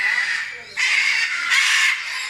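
Chickens and peacocks at a bird sanctuary give loud, harsh calls in two or three bursts, with the flock noise going on between them.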